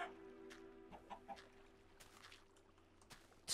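Soft clucking from a chicken in Minecraft Beta 1.8, a few faint short calls scattered over quiet ambient game sound.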